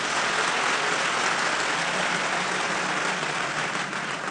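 A church congregation claps in praise, a dense, steady wash of many hands that holds at even loudness throughout and fades only slightly at the end.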